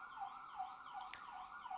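An ambulance siren wails outside in a steady rising and falling cycle. It is heard faintly through walls, with a brief burst of other noise partway through.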